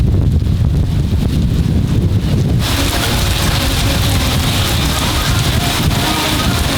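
Heavy rain and gusting wind from Hurricane Ernesto in Miami, a dense continuous roar with wind buffeting the microphone, growing brighter and harsher partway through, no one speaking.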